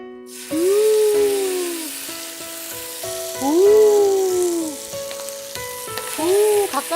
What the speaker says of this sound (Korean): 다시 불을 켜고 센 불에 바짝 볶아볼게요